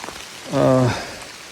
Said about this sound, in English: I can't do much of this because it is pouring down rain.